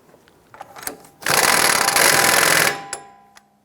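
A power tool, probably an impact gun, snugs an axle nut on a 2001-2007 Ford Escape during strut work: one loud, steady burst of about a second and a half, framed by soft clicks and handling taps before and after.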